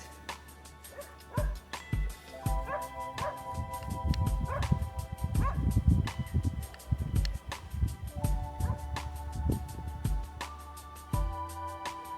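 Dogs barking and yipping at a landfill, with repeated sharp barks and some whimpering spread through the clip at moderate distance, over a steady low rumble.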